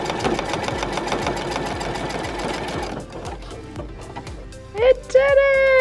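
A sewing machine runs fast and steady for about three seconds while stitching a programmed letter, then slows to a few uneven stitches before a high excited voice and laughter break in close by.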